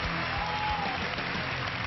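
Applause for Lur at the finale of a reality competition, a steady, dense wash of clapping held at an even level with a faint voice briefly audible underneath.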